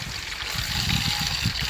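Water trickles and pours steadily into a container, a continuous close splashing flow with low gurgling underneath.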